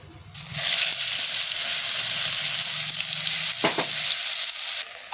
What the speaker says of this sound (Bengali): থোড়টা কড়াই দিয়ে এইভাবে নাড়তে হবে